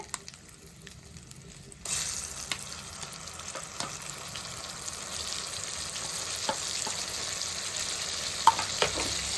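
Grated raw mango dropped into hot oil and stirred for tangy mango pulihora, starting after a quiet moment with a sudden steady sizzle, plus occasional scrapes and taps of the spoon in the pan.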